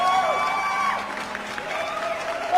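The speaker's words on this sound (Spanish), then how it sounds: "recibamos con un muy fuerte aplauso a Yanela Vega" Audience applause with some cheering, a steady crowd wash at moderate level behind a faint tonal hum, lifting again at the very end.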